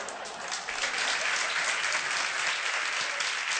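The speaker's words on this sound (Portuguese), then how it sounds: "As palmas são para mim ou para os lutadores?" A television studio audience claps steadily in sustained, dense applause that swells slightly after the opening second and holds evenly, with no voices over it.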